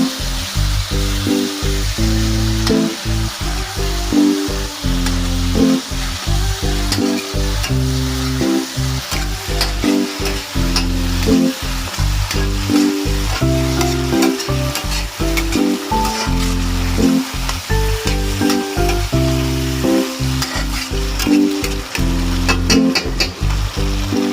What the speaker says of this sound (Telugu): వేసుకొని ఈ చికెన్ని ఫ్రై చేసుకోవాలి.